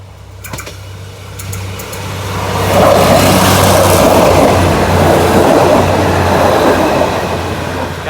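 Excursion passenger trains 909/911 run through Nong Pla Duk junction in Thailand. A loud, low rumble swells in after a few quiet seconds and holds steady with rhythmic rail clatter as the cars pass close by.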